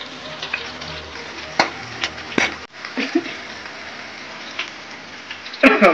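Chopped onion fries in a pan with a steady sizzle, broken by sharp scraping clacks of a spoon stirring it, including a louder burst of stirring near the end; speech is faintly present.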